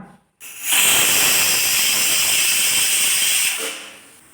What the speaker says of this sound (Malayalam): കുക്കർ വിസിലടിച്ചു